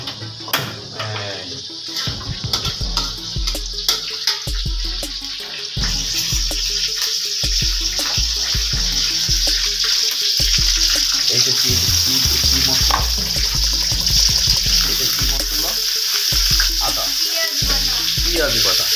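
Prawns are rinsed under a running kitchen tap, with a loud, steady rush of water and occasional clatter in the sink. Faint voices can be heard in the background.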